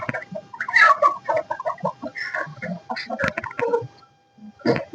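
Desi hens clucking close by in a lively, overlapping run of short calls, with a brief pause near the end before more clucks resume.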